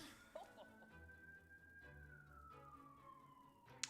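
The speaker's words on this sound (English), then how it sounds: "Sorry about that siren." A siren wails faintly from outside the room, a long, slowly falling tone under quiet indoor sound, with a sharp knock near the end.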